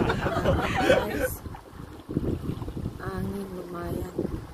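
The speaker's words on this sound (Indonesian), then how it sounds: "angin lumayan" Strong wind gusts across a fishing spot near a ravine, a rough rushing roar that buffets the microphone and fades out as people talk and chuckle.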